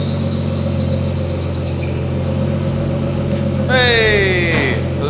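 A JDM car engine idles steadily on its first start-up, a low continuous rumble under loud insect-like chirping, with people talking nearby and a rising whistling sweep near the end.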